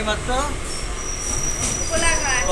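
A train running just before reaching Kolaghat station sends a loud, close rumble through the carriage, with high metallic wheel squeals rising and falling over it.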